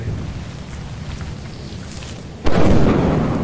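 Lightning strike in the game Lethal Company: steady rumbling background, then a sudden loud crack at about two and a half seconds followed by a sustained roaring boom.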